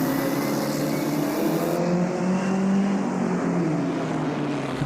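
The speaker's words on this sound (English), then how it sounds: "Competitors being sent away on their green flag lap for the start of this 6-lap scratch race." Pre-war Austin Seven race cars pull away together on a green flag lap at a vintage club scratch race, a dense, steady drone of small engines droning loud and continuous with no talk.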